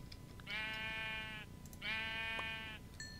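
Two long, strongly harmonic sheep bleats from a Minecraft modpack game, each lasting about a second with a short pause between them, loud and close over a low background hum, with no talking.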